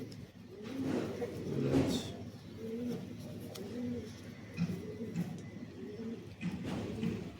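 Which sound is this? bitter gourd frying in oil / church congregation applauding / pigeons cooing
pigeons cooing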